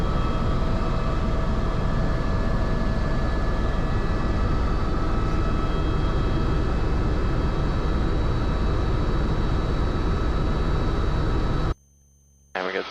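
Helicopter in flight over the Port Campbell coast in strong wind, a loud, continuous rotor and engine roar with steady tonal whine heard from inside the cabin, cutting out abruptly near the end.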